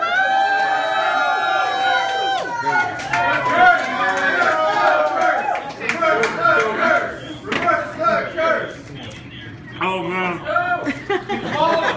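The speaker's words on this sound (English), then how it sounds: "The louder you cheer, the faster they eat!" Loud crowd cheering and shouting at a 40-pound goat eating contest, a dense mix of yelling voices and excited chatter rising and falling throughout, with a single held shout at the start.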